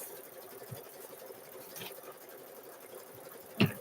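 An embroidery machine stitching a zipper bag in the hoop, a quiet, steady rapid mechanical chatter that runs throughout, with a sharp clack near the end.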